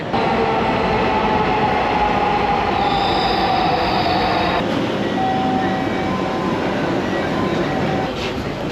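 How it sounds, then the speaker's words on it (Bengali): A metro train arrives at an elevated station in Uttara, Dhaka, with a continuous loud rail rumble and high wheel squeals and whines as it brakes, close to the platform. "আমরা দেখতে পাচ্ছি ট্রেন আসছে"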